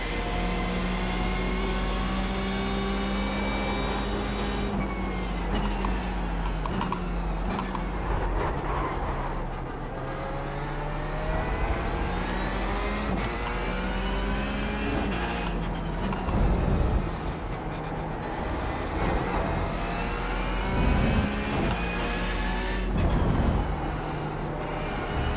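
A Porsche 911 GT3 Cup engine lapping Laguna Seca in iRacing, a steady high-pitched whine that climbs and drops as it revs through gear changes, close and continuous with no talking.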